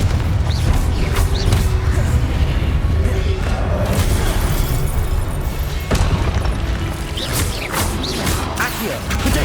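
Confringo blasting spells explode repeatedly in Hogwarts Legacy combat, with loud booms and crashes over a dense, busy battle din.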